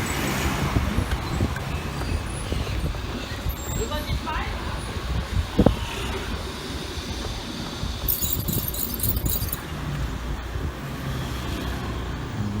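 Busy road traffic in Shiqi, Zhongshan, China, heard during a ride: a steady roar of cars, buses and trucks with engine rumble and a brief hiss, continuous and fairly loud throughout, with people talking over it.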